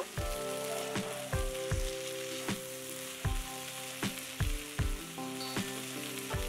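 Spices and oil sizzle in a pan of okra curry with garlic, cumin-coriander powder and red chili, a constant frying hiss punctuated by regular scraping clacks of a spoon as it's stirred, close and steady.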